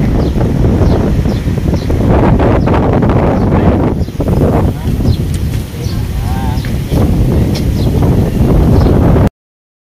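Strong wind roars continuously and loudly across the microphone outdoors, a heavy buffeting rush that barely lets up, with faint rustling mixed in.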